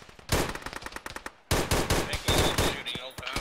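Rapid bursts of automatic gunfire from a player in Arma during a ShackTac jungle-road operation, two close sustained volleys separated by a short pause, sharp and loud.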